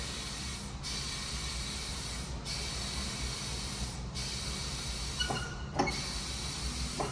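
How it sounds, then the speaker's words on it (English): A tire changer pumps air into a tire during mounting, a steady hiss running throughout with a few brief sharper bursts of air near the end. "So to pump the air in, I'll press on this pedal down here."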